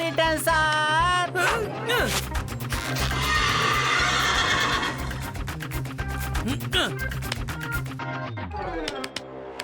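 Cartoon horse neighing: a loud, shrill whinny with wavering pitch near the start, followed by busy cartoon sound effects and voices speaking over the scene.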